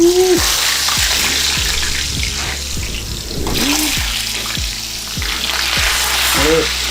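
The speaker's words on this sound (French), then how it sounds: "Maintenant que l'huile est chaude, Nous allons passer à la friture." Loud, continuous crackle and sizzle of food frying in hot oil, close up, with repeated bubbling pops and a high whistle at the start.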